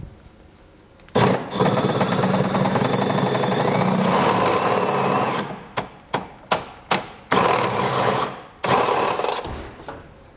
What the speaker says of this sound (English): So we're going to use a step bit, or you can use a hand file or a cutter tool to get this enlarged.